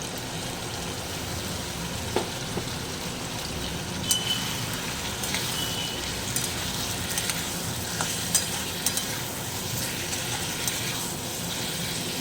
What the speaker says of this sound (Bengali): ভালোভাবে আলুর সাথে মশলাটা নাড়াচাড়া করে ফ্রাই করে নেব